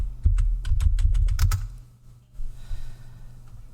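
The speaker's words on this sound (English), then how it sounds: "It's typing the commands into the Twitch chat" Rapid computer keyboard typing, a burst of roughly ten crisp keystrokes over a second and a half, close and fairly loud, entering commands into a Twitch chat, followed by quieter background noise.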